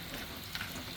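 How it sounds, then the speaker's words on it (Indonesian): Jengkol crackers fry in moderately hot oil in a home kitchen, giving a steady, dense sizzle with faint crackles close by. "Dan ini dalam proses penggorengan."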